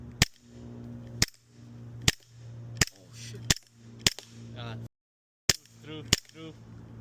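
Umarex Glock 17 Gen 4 airsoft pistol fired in eight sharp, loud pops at roughly one-second intervals, with a short silent gap before the last two and voices talking between shots.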